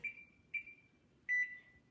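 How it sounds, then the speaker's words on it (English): A kitchen oven sounds three electronic beeps while muffins bake, two short tones about half a second apart followed by a slightly longer one, clear and close in a quiet room. "my oven just beeped"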